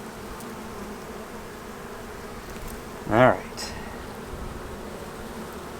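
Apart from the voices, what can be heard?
honey bees buzzing around hives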